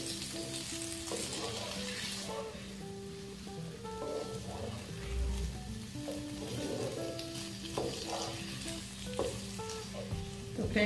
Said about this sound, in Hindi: इसे भी हम थोड़ा फ्राई कर लेते हैं साथ में